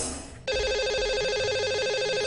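A telephone line rings out as a call is placed to a caller on a live radio show, a steady electronic ring tone starting abruptly after a brief lead-in and holding loud and continuous.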